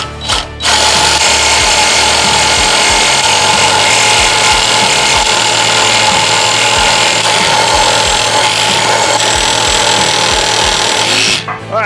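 A loud reciprocating saw cuts a Harley-Davidson Sportster motorcycle frame steadily for about eleven seconds, its harsh buzzing roar starting and stopping abruptly, with no talking.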